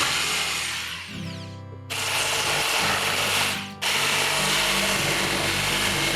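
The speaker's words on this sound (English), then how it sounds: "I aligned my drill from the inside of the wall to create holes in the four corners so my jigsaw could complete the cutout" A power drill bores corner holes through an OSB studio wall from the inside to start a jigsaw cutout, a loud steady whine broken by two short pauses before the motor picks back up.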